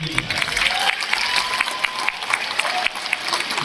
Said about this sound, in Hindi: एक बार फिर लोग तालियां बजाके